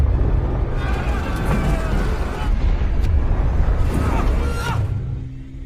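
Weapons exploding in a film: heavy rumbling explosions roll on continuously, with sharp bursts cracking through the low roar; the din stays loud before fading at the end.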